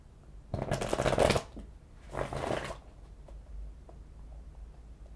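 Tarot cards shuffled in two close, brisk bursts of riffling and flapping, the second shorter, with quiet pauses between and after.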